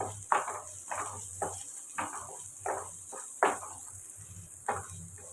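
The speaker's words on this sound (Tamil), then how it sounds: "இதெல்லாம் ஒன்றா சேர்த்து வதக்கணும்" Onion, curry leaves and spices sizzle quietly in a pan while a spoon stirs in repeated scraping strokes, about one every half second, fairly soft and close.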